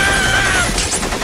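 Rapid cartoon gunfire in an SMG4 Mario animation, a loud, dense burst of shots packed into about a second, close and harsh with a thin whine running under it.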